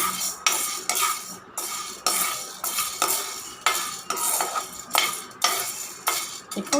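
Urad dal roasts in a dry pan as a spoon scrapes it in steady, rhythmic strokes, about a dozen in a row, with a light sizzle.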